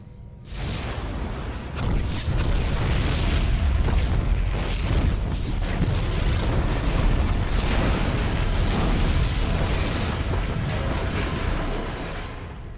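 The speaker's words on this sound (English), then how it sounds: "The explosions have stopped." Rolling series of heavy booms and rumbling blasts in StarCraft II: Heart of the Swarm, loud and sustained, with bursts and whooshes layered over a deep continuous roar.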